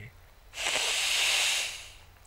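A single long, steady breath of air drawn in through the left nostril, the right pressed shut, during pranayama breathing; a close hissing rush lasting over a second before fading out.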